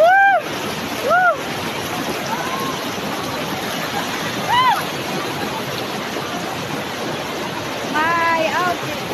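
Taytay Falls in Rizal pours in a constant broad rushing roar of falling water. Voices shout and whoop excitedly now and then over the steady noise.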